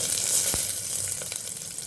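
Dried red chillies, garlic and onion fry in a pan with a steady close sizzle and crackle, one sharper pop near the middle, no voices.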